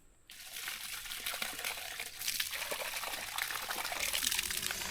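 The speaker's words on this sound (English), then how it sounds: "put some water in there." Water pours into dry cement mix in a fence post hole, a steady splashing, trickling stream that begins abruptly after a brief quiet start and continues close and fairly loud to the end.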